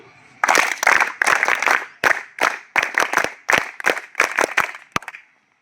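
An audience performs a patterned 'happy claps' cheer in a rhythmic sequence of sharp bursts, loud and close, then stops.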